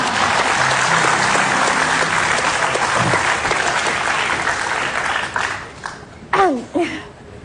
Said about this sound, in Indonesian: Tepuk tangan seadanya, seikhlasnya untuk Musdalifah